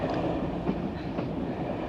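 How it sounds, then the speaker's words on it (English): A train rolls steadily along the rails with a constant low rumble and faint rhythmic clatter, loud and close throughout with no voices. "I want this train stopped now."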